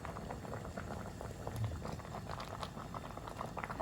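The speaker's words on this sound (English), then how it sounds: "A few more minutes to simmer and we're ready to have our bite." Red cabbage soup bubbling steadily in a pot, a soft continuous boiling patter with small pops, close and moderately quiet, no voices.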